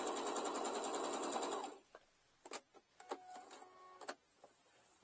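A sewing machine stitches a half-inch seam on a pouch made from a placemat, running in a steady loud whir for under two seconds, then stopping, followed by a few soft mechanical clicks and taps.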